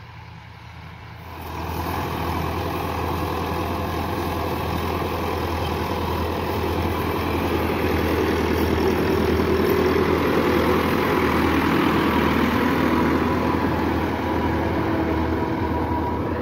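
A large 385-model tractor on farmland, its engine rising from quiet to a steady, loud, low idling rumble that holds for the rest of the stretch, close by and without voices.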